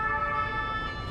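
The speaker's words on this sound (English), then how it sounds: "I hear French sirens" French police sirens wail steadily at a moderate distance, a brief continuous tone with traffic noise beneath and no voices.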